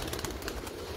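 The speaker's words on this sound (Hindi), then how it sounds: "और यहाँ पे हैं जनाब डब वाले कबूतर" Dab pigeons in a loft coo softly, a low, faint burbling call that runs continuously through the brief moment.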